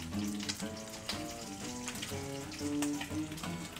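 Beef bacon and an egg fry together in a frying pan, giving a steady close sizzle that runs without pause over faint tonal background sounds.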